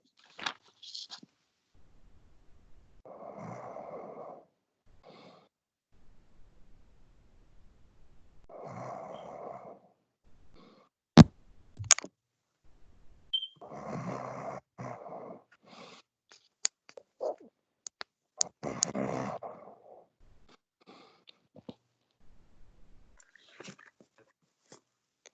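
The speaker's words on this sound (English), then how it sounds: "Sounds like somebody's snoring." Someone snores during an EMT anatomy class, with slow, rhythmic breaths about every five seconds. The snores are faint and sound far off in a quiet room, with scattered small clicks and taps between them.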